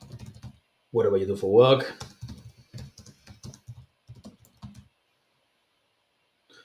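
A person speaks briefly, then light, scattered clicks of typing on a computer keyboard follow at a moderate volume before everything goes quiet.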